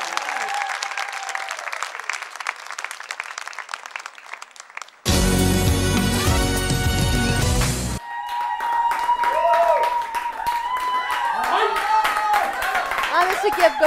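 Audience applause at a televised gala show, a dense burst of clapping that swells briefly and loudly in the middle, set between stretches of speech and music.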